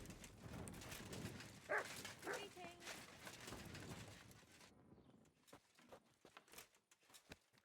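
A dog in Kingdom Come: Deliverance 2 gives a few barks and whimpers under a voice, followed by a quieter stretch with soft clip-clop footsteps.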